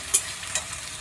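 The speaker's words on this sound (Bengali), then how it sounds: "এবার ভালো করে মশলাটাকে কষিয়ে মাছগুলোকে ছেড়ে দেবো।" Boal fish cooking in hot spiced oil, a soft, continuous sizzle with a couple of sharp spattering pops, close and moderately quiet.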